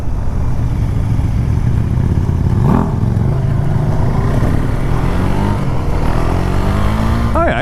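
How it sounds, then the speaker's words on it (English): A KTM Duke 390 motorcycle engine rumbles loudly and continuously close by on small streets, its exhaust note rising and falling as it revs and accelerates. "You can hear the exhaust."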